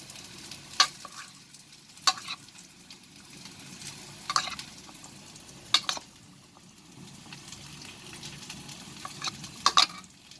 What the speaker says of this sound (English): I'm going to mix it nicely so that the cauliflower gets coated